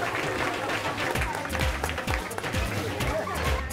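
A TV game-show studio audience in a Marathi serial applauds while contestants rush to shop, giving a busy, steady clatter of clapping mixed with heavy thuds and movement, with voices underneath.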